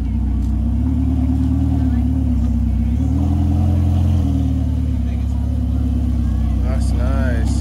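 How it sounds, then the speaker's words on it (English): A Ferrari supercar rolls out at a riverside street gathering, its engine giving a loud, steady low rumble that swells slightly midway. People chat nearby over the engine. "we got Ferrari rolling out"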